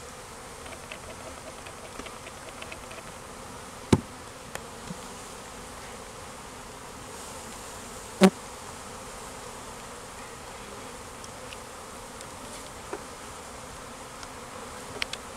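A swarm of honeybees on a front lawn gives off a steady, low buzzing drone throughout, with no voices and only a couple of brief clicks or knocks.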